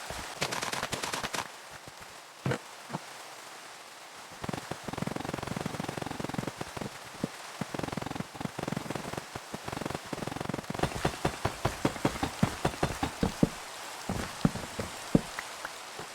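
Rain falling in a Minecraft survival game, a steady hiss of rain on surfaces broken by bursts of sharp rapid clicks and taps, fairly loud and near, with no voices.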